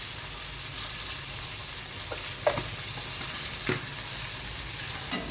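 Ivy gourd and green chillies fry with turmeric and salt in a steady close sizzle, broken by a few light scrapes and taps of a stirring spoon.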